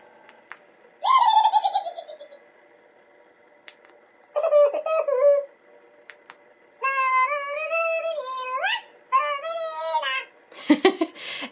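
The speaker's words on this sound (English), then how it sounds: "You can press once to have them do chipmunk chatter." Plush llamacorn or monkicorn toy with its switch flicked on emits electronic chipmunk chatter in several bursts of squeaky, chirping trills separated by short pauses, close and fairly loud, ending in a rougher noisy burst.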